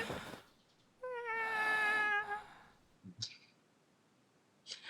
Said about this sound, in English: That's what that cat sounds like.